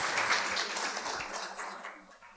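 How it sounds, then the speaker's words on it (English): An audience applauds at a Ramacharitamanas discourse, a dense, continuous patter of many hands clapping at moderate loudness, tapering slightly toward the end. "Yeah, you can clap."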